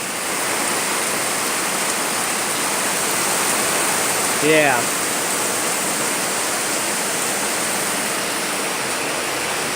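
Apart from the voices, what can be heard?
really heavy rain and wind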